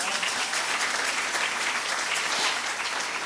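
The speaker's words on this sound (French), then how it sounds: "On acclame les œuvres." A church congregation applauds during a Sunday worship service, steady dense clapping filling the whole stretch at close range with no voices above it.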